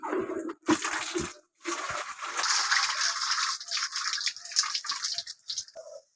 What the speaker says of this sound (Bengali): তো বন্ধুরা এখন মাছগুলো ধুয়ে নিব ভালো করে।